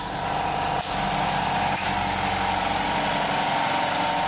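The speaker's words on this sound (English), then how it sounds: "The nice quiet air compressor." Air compressor in a home machine shop with a Colchester Master lathe, running steadily with a constant mechanical hum and two brief dips, loud and close with no talking.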